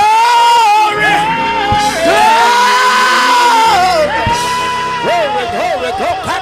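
A church congregation shouts and whoops together in loud, sustained cries of praise, voices rising and falling in waves with crowd noise behind.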